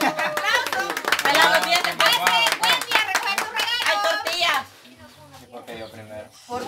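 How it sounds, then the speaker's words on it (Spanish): Family members clap by hand during gift giving at home, a burst of sharp, close claps mixed with lively talk and children's voices, then the clapping stops and quieter chatter continues. "Vaya, hay un aplauso."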